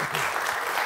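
An audience at a Georgian comedy show breaks into brief, loud, steady applause that fills the whole moment.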